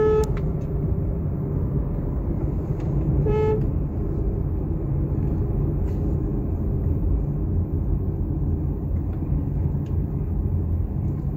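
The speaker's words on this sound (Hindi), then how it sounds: "थोड़ा खाली पैच है, थोड़ा एक्सलेट करके दिखाएंगे।" Hyundai Grand i10 Nios on 15-inch alloys pulling away in first gear with the AC running: a steady, dense engine and road rumble, with a brief horn toot cutting in early on.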